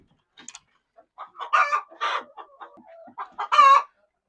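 Chickens in a ventilated chicken house on a layer farm cluck and squawk in several loud, close bursts, with harmonic calls building toward a strong final squawk.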